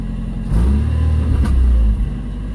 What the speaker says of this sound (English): My pedal is working, but now I'm still getting a high RPM hang.